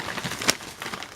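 Paper bound in heavy layers of sticky tape crinkles and rustles as it is pulled apart, with a sharp louder rip partway through; close and fairly quiet, with no voices.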